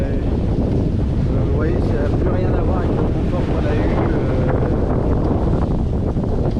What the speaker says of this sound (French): Il y a de la houle, il y a du vent.